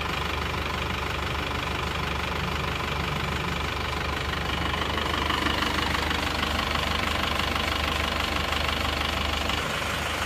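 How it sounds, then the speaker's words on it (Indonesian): An Isuzu Panther diesel engine idles steadily up close after repair of a tapping knock, a constant mechanical hum with a fine rapid rattle running through it, no voices. "Ini adalah suara mesinnya setelah mesin diperbaiki."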